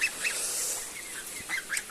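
Geese and ducks on a farm give several short nasal honks and quacks at moderate distance, scattered irregularly over quiet background.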